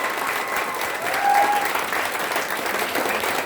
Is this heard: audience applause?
yes